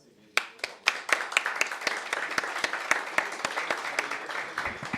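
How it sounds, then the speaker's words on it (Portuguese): A standing audience at a council session claps, starting from a few sharp hand claps that quickly build into steady applause from a modest crowd in an echoing hall. "Gostaria que vocês ficassem em pé para a gente dar uma salva de palmas"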